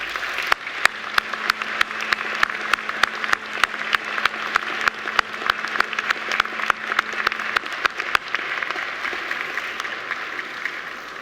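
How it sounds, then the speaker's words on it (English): A crowd of graduates at a university graduation ceremony turns to applaud their families and friends. They give a long, sustained round of loud, dense clapping with sharp individual claps that carries through the hall for about eleven seconds. "give them a big round of applause to thank them"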